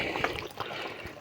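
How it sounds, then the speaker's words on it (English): Water poured into a container for rinsing the mouth in a village setting, a short soft trickle and splash close by, no talk. "So get water to rinse your mouth."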